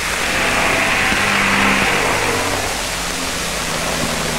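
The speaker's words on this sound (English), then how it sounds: "Most of these trucks are being equipped with multi-fuel engines" An Army M35 2.5-ton truck with a multi-fuel engine runs steadily at a loud, close level. The broad, rough mechanical roar holds throughout without a pause and with no voices over it.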